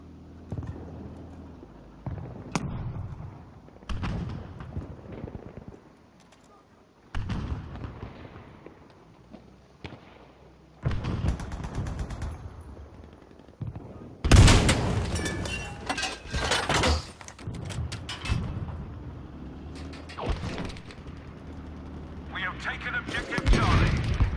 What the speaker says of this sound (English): I just hit him with the 6-pounder!